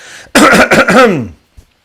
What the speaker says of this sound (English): Let me clear my throat a little bit here